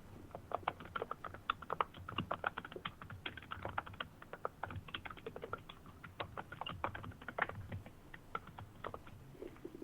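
A computer keyboard clatters as a phone number is typed, with quick, uneven runs of light key clicks close by and fairly soft throughout.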